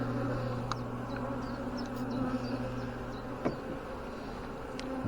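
Honeybees buzz steadily around an open hive during an inspection, a dense, continuous drone close by, with a few light clicks and knocks of frames and tools now and then.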